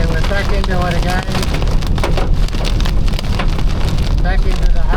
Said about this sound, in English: Back into the hail, back into the wind's not that bad actually. Not big hail,